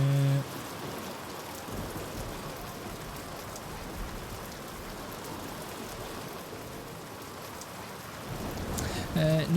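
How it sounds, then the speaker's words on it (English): Steady rain falls in Bioshock Infinite, a continuous even hiss of drops on surfaces with a faint rumble beneath, lasting throughout without a break. "We're just stood here in the rain"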